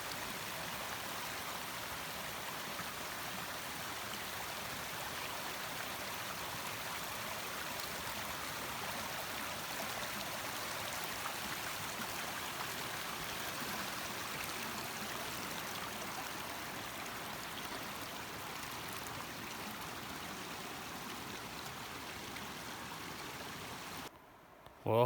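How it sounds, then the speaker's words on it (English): Steady broadband rush of the Little Missouri River flowing along the Eagle Rock Loop trail in January, continuous and fairly loud for the whole stretch, with no voices, before cutting off abruptly at the very end. "I've come to the big crossing of the little Missouri River"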